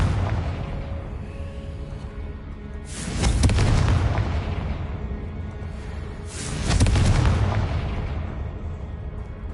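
Two heavy booming blasts from the Confringo fire spell in Hogwarts Legacy burst out a few seconds apart, each with a rumbling tail that fades before the next, loud and close against a low game ambience.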